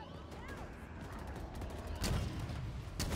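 Gunfire in Halo Infinite: a few sharp broadband shots, one near the two-second mark and another just past three seconds, loud over a steady game background with faint whistling tones early on.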